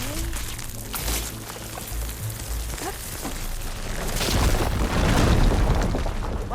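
A fire gleam deposit blown apart in Horizon Forbidden West, loud rumbling explosion building in the second half after scattered game sounds and brief character voices.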